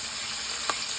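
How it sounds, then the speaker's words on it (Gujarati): Ground ginger, garlic and chili paste hitting hot tempering oil with cumin and curry leaves, a bright steady sizzle with a brief stir or splash midway. "હવે આપણે 1 ચમચી આદુ લસણ મરચાં નાખી દઈશું વાટેલા"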